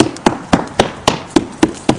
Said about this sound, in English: This is the sound of sound wood.